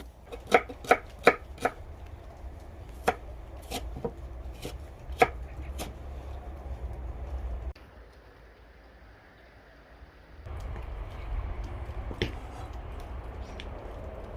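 A knife chopping onion on a board during beef shashlik preparation, with a quick run of sharp, close taps followed by scattered single cuts, then soft handling noises and faint background hum.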